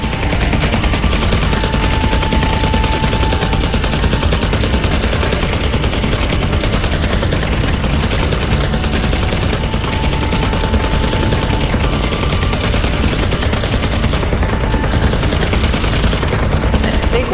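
Rapid, continuous automatic gunfire rattles loudly and without pause in the virtual reality shooter Vertigo 2, with short whining electronic tones drifting over the sustained barrage.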